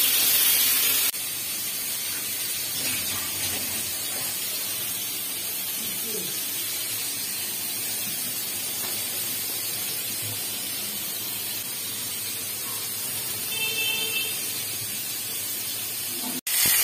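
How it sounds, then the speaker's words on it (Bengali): Pointed gourd frying in a pan, a steady broad sizzle and hiss that carries on for many seconds, with soft clinks and stirring underneath. "দেখো পটলগুলো কি সুন্দর ফ্রাই হয়ে গেছে।"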